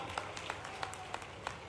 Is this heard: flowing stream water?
no